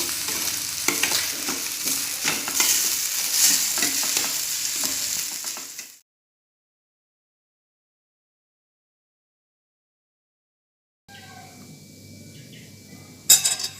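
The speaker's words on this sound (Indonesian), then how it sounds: "Kemudian diaduk." Fried rice (nasi goreng) is stirred in a pan, a busy sizzling scrape for about six seconds that cuts to silence, followed by fainter kitchen sounds and a brief sharp knock near the end.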